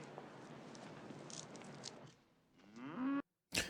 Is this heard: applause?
no